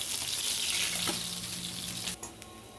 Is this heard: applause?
no